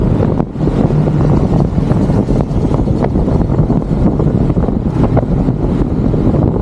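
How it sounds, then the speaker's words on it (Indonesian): Strong steady wind roaring across the microphone while riding a gravel bike into a headwind, with constant buffeting and no speech. "Kebetulan agak melawan angin."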